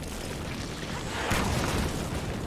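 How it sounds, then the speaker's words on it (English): Explosions in the video game Scarlet Nexus: a dense, steady rumble of game noise swells into a broader boom partway through, heavy and continuous with no clear gaps. "Explosions!"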